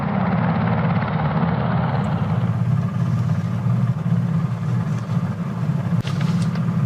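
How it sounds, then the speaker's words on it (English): A loud, close helicopter thrums steadily with heavy low rotor chop and engine whine, dominating throughout without voices. "A helicopter just landed right there."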